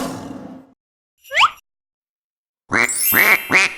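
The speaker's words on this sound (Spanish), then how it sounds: "Pato." Duck quacking in a few separate bursts: one short call, a pause, then a louder run of three or four rasping quacks close by, with a brief unrelated sound at the start.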